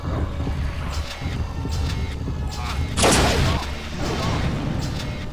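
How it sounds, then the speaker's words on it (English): Rockets launched in a circling spread in the shooter Unreal Gold: one loud whooshing blast in the middle over steady game ambience, with dull thumps around it. "Hold down primary fire, and then you hold down secondary fire. It sends the missiles in a circle."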